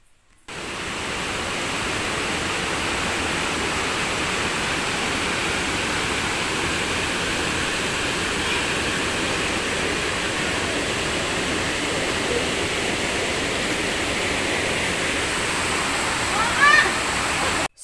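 A waterfall roars in a constant, even rush of falling water that fills the whole scene without letting up.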